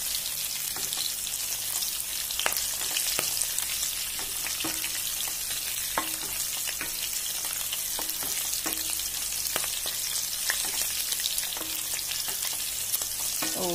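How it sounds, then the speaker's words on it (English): Garlic and green chilies fry in hot oil in a pan for Mumbai-style potato sabzi, giving a steady, close sizzle with small crackles and pops scattered throughout. "So I will fry this well, the garlic and the green chilies"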